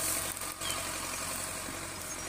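A 260 tractor engine runs steadily behind the speaker at a field site where a laser land leveler is working. It makes a loud, continuous broadband rumble with no pauses and no talk over it.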